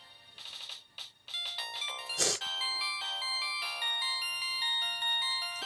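Ringtone from a Samsung SGH-X450 mobile phone: a few short stuttering tones and a sharp burst, then a sustained bright polyphonic melody rings out steadily and loudly.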